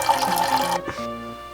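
Green Japanese summer drink poured into a glass: a steady liquid splash that runs for most of a second, stops abruptly, then a faint clink and quiet room tone follow, close to the microphone.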